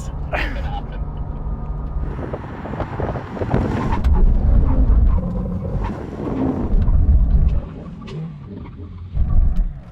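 A Porsche 911 GT3 and a Bentley Continental GT during a drag race brake test: loud broadband engine and wind roar that swells and surges over about ten seconds, with a brief sharp burst near the end.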